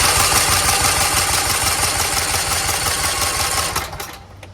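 A rebuilt Kohler Command engine on a John Deere LT160 lawn tractor runs loud and close with a steady pulsing idle, then fades and drops off near the end.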